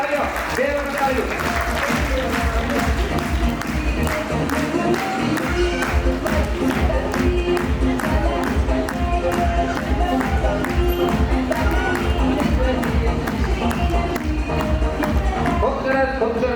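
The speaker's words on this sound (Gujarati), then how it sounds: "બંને સન્માન એક સાથે જોરદાર તાળીઓ. 2 વખત તાળીઓ." A crowd at a family gathering claps for honored guests in loud, sustained, rhythmic applause with a steady beat, while voices carry on underneath.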